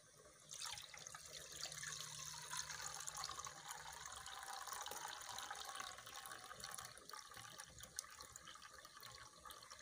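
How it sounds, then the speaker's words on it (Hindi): Water draining and trickling from soaked raw basmati rice in a kitchen, a soft continuous splashing pour with faint drips, quiet and close, with no talking. "अब चावलों का पानी हमने जो है ना अलग कर लेना है।"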